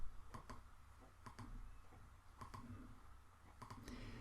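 Several sharp computer mouse clicks sound close by in small clusters, with a faint hum under them and no talking.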